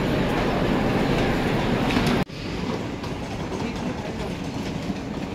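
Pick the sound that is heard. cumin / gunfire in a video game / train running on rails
train running on rails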